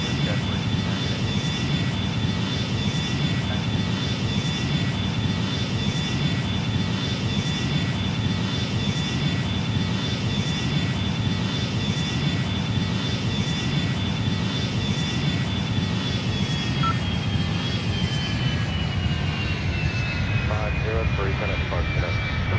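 A fixed-wing airliner's engines roar in a flight simulation during taxi and takeoff, a loud continuous whine and rumble with a gradually shifting tone, while air traffic control voices talk over it.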